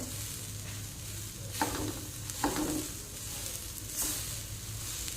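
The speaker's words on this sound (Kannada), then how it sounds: "ಇಲ್ಲಿ ನಾನು ಕಾಳು ಮೆಣಸು ಹಾಗೂ ಕಾಯಿ ಮೆಣಸನ್ನು ಹಾಕಿರೋದ್ರಿಂದ ಒಣಮೆಣಸನ್ನು ಸ್ವಲ್ಪ ಕಡಿಮೆನೆ ತಗೊಂಡಿದ್ದೇನೆ" Peppercorns with green and dry red chillies roast in a pan, making a quiet, steady crackle. Three separate stirring scrapes come a second or so apart, and there is no talk.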